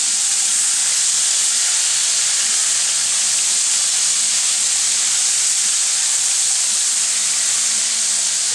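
Homemade chicken strips fry in hot oil, giving a steady, loud, dense sizzling hiss that holds constant from start to finish with no voices.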